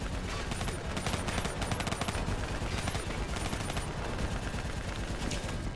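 Dense, continuous automatic gunfire in Black Ops 3, aimed at a VTOL aircraft in a firefight with an APC nearby, loud rapid rattling shots filling the whole stretch without pause.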